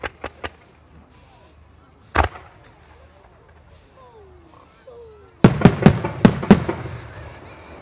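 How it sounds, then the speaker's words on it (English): Four-inch aerial firework shells burst at a European firework festival demonstration in Abingdon, breaking into yellow glitter and blue: a few sharp distant bangs open, one loud thump comes midway, then a rapid volley of crackling reports closes it, with no talk. "Stunning fireworks there."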